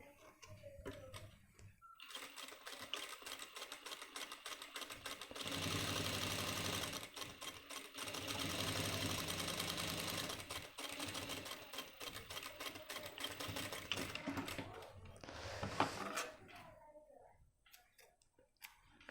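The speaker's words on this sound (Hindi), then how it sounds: "बिल्कुल जहाँ हमने फोल्ड किया था उसी जगह उसके ऊपर ही मैं सिलाई मार रहा हूँ।" An electric sewing machine stitching a men's trouser front pocket, a continuous rapid mechanical whir in long runs with short pauses between bursts of stitching, heard close, with a brief voice near the start.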